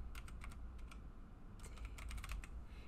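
Quick bursts of keystrokes on a computer keyboard, two short clusters of clicking taps with a pause between, close and clear over a low steady background hum.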